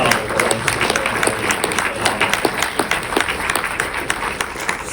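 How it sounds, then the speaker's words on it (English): Film audience at a Q&A for "Blitz" applauding the cast, a steady dense wash of many hands clapping from a large crowd, with a few voices mixed in throughout. "If we could have a round of applause for Paul Weller, Stephen Graham, Kathy Burke, Harris Dickinson, Haley Squires, Lee Garrett, the entire ensemble"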